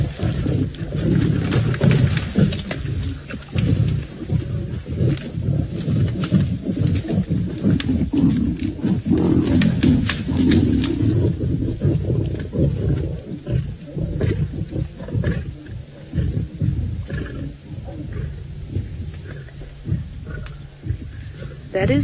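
Lions snarl, growl and roar as they scrap over a kill during a sunset safari drive. The noise is loud, dense and continuous, with heavy throaty bursts that overlap one another, and faint human voices can be heard underneath.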